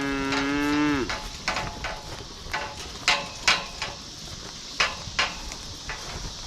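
A cow on a farm lets out one long, loud moo at the start, followed by scattered metallic knocks and clanks at uneven intervals.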